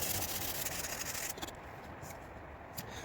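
Rhythmic sanding of a wooden guitar body, rough rubbing strokes close by, steady at first then lighter and more intermittent toward the end.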